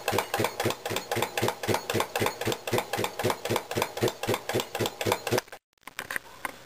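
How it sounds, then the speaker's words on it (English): A circa 1900 Brunner air compressor, made in Utica, New York, runs with a steady, loud, rhythmic chugging of about three strokes per second. It stops abruptly near the end, then briefly resumes. "that is the Brunner compressor made in Utica, New York"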